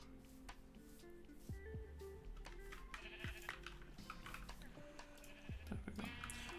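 Sheep in a modded Minecraft survival game bleat again and again, several short wavering calls spread across a steady backdrop of game ambience and tones.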